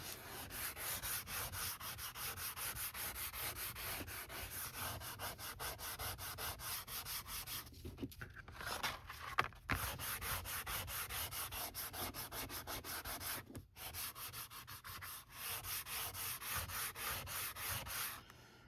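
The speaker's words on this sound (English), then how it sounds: "now get out your sanding block" A sanding block rubs back and forth in long, steady strokes, a continuous rasping scrape broken by a couple of brief pauses.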